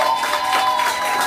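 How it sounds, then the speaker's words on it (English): A party crowd applauds and cheers for a birthday girl called Miss Sugar, a steady wash of clapping and voices filling the room at full loudness, with no break throughout. "Can we get a round of applause for the birthday girl right here"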